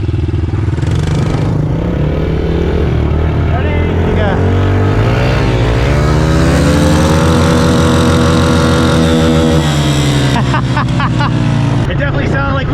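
A Honda CRF110 pit bike with a loud aftermarket exhaust revs hard in first gear, its close engine note climbing steadily in pitch before easing off, with someone talking over it.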